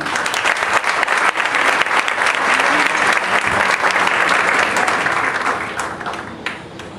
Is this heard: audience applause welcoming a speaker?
yes